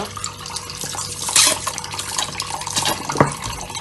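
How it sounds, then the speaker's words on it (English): Goat meat for Jamaican curry goat being rinsed with vinegar under running tap water in a sink, a steady splashing, trickling rush with occasional louder spatters, close and continuous without speech. "I'm just gonna wash it now, and as usual I always like to wash my stuff with some vinegar"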